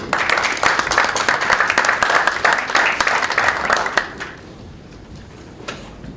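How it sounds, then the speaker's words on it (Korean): Audience applause at a launch ceremony for a Democratic Party climate change and energy transition committee, a dense wash of many hands clapping for about four seconds, then stopping abruptly into quiet room tone. "큰 박수로 모시겠습니다."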